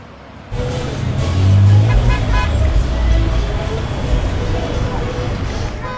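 Busy night street traffic on Bangla Road in Phuket, loud engines rumbling and a horn tooting amid roadway noise, with crowd sounds in the background.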